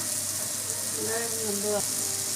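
Roasted bread pieces drop into a hot pan of sautéed onion and tomato for chilli bread, setting off a steady, close sizzle of frying with a brief faint voice-like tone partway through.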